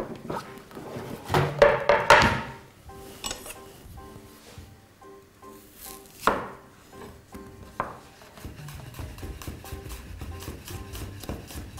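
Knife chopping an onion into half-rings on a cutting board for pan-fried stuffed carp, a burst of quick thunks early on, then a sharper single chop and scattered lighter taps, with faint kitchen clinks between.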